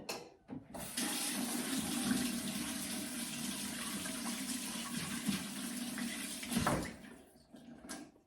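Hot water runs from a tap in a village home, a steady splashing stream that starts after a short pause, flows close and constant, then stops abruptly with a few trailing drips.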